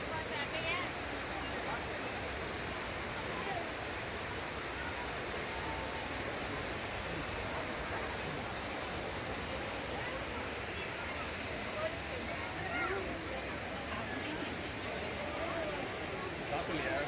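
A waterfall in Tamil Nadu makes a constant, even rushing roar of falling water that fills the whole stretch at a moderate, somewhat distant level, with no clear breaks.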